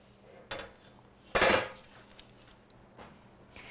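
Roasting potatoes flipped on a metal oven pan: a few scattered scraping clatters, with one louder, longer metallic scrape and clunk near the middle, all close and in an otherwise quiet kitchen.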